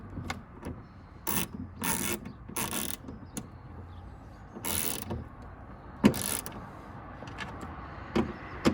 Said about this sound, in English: just use your spanner just to tighten it up